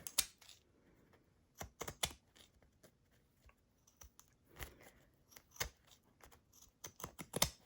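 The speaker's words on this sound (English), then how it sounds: "using pinking shears across the zipper is going to be less than fun" Sharp, irregular clicking snips of pinking shears cutting across a zipper, coming in quick clusters separated by short pauses.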